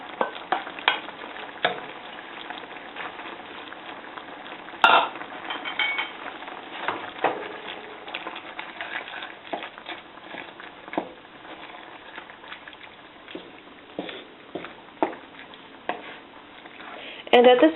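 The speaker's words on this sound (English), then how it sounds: "now at this point we'll add the eggs back into our tomato mixture" Scrambled eggs stirred back into sautéed tomatoes in a hot pan give a steady, moderate sizzle, broken by repeated scraping and clacking from the utensil against the pan.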